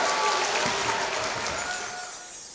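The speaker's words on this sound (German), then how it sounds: "Applaus, Applaus, Applaus für meine Elina," Audience applause at an Erzgebirge Christmas concert for a performer named Elina, a dense, steady wash of clapping from a large crowd that slowly fades toward the end.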